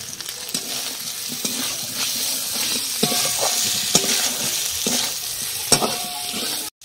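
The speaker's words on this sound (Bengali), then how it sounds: "মশলাটা কষানো হয়ে গেছে" Spice masala with chopped tomatoes and salt frying in a pan for a cauliflower and lentil-fritter curry, a loud continuous close sizzle punctuated by repeated sharp scraping stirs and clinks, with no voices.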